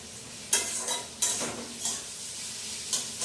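Bitter gourd fries in a pan with a loud, close sizzle, broken by several sharp scraping strokes of a spatula stirring against the metal at an uneven rhythm.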